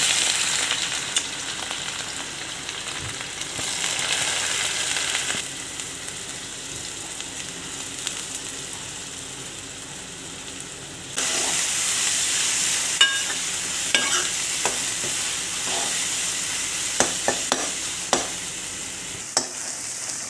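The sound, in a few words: grated onion frying in oil in a wok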